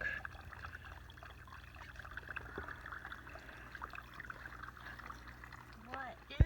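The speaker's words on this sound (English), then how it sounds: "Filtering water in the dark." Water trickles softly and steadily while being filtered at night on the Pacific Crest Trail, close by and faint, with a brief louder splash near the end.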